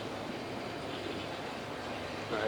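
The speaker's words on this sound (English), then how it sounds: "I actually want you guys to hear the engine" A 2006 Mercury 75hp four-stroke outboard boat motor with remote controls and a 20-inch shaft runs at a steady idle, a continuous low, even engine drone with a slight rise at the end.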